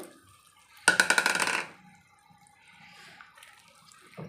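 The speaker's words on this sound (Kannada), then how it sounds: "ಹುಣಸೆಹಣ್ಣು ಗೊಜ್ಜಿದೆ ಅಲ್ವಾ ಆ ನೀರನ್ನ ಇದಕ್ಕೆ ನಾವು ಹಾಕ್ಕೋಬೇಕು" Tamarind water poured into a cooking pan for a potato and poha chitranna dish, a single brief splashing pour of under a second, close and fairly loud, followed by quiet background.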